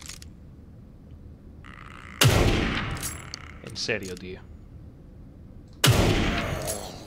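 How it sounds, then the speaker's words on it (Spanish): Gunfire against enemies in the survival horror game The Evil Within 2: two sharp, loud in-game shots a few seconds apart, each with a decaying tail, plus clattering effects between them and someone speaking briefly. "lo mejor para un chungo es meterle un disparo chungo en la chola"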